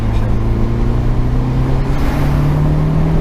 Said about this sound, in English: Everything in the engine sounds so good, and it's really addictive once you get on boost in this car.